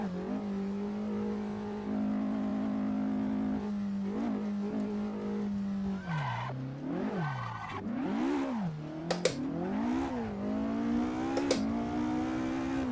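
A racing car engine in a sim racing game hums steadily at idle, then revs and falls in a series of sharp swoops, with whirring mechanical tones layered over it, close and clear.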